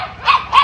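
A dog barks twice in quick succession, close and loud, over faint background noise.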